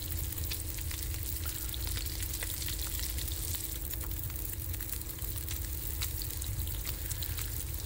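Food frying in a cooking skillet in the survival video game The Long Dark, a steady close sizzle with crackling pops running throughout, no voices.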